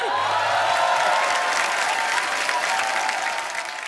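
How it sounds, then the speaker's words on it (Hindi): Studio audience at a Hindi television comedy show breaks into loud, sustained applause, steady throughout and easing slightly at the end, with no talking. "तो जोरदार तालियों से स्वागत कीजिए सिम्मी चाहल और रंजीत बावा का"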